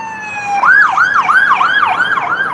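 An ambulance siren wails close and loud in a rapid, repeating rise-and-fall yelp with no talking.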